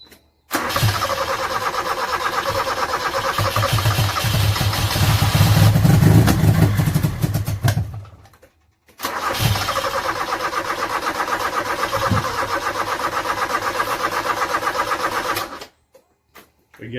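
A 1986 Toyota Corolla KE70, abandoned for years and with a dirty carburetor, cranks with a rapid, whirring starter rhythm in two long attempts, loud and close, separated by a brief silence.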